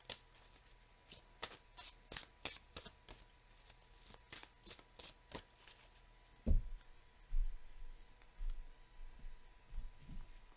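Oracle cards being shuffled by hand in a tarot-style reading: a run of crisp, rapid riffling bursts in quick rhythm, followed by softer handling taps and shuffles, close and alone with no talking.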